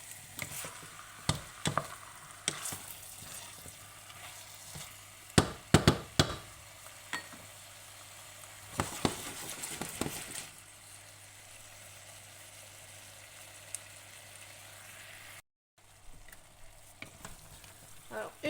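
Meat for a Provençal daube sears in a pot with a steady sizzle and frying crackle, broken by bursts of stirring and utensil scrapes, close by with no talk.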